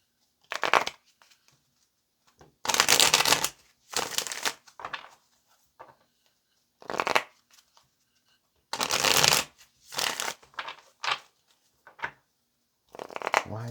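Tarot cards shuffled by hand in several separate bursts of riffling and crackling, each lasting a second or so with short pauses between, close and fairly loud, with no voice.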